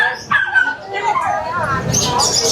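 A dog barks and yips a few times close by at a pet market, mixed with whimpering tones, while a person talks over it.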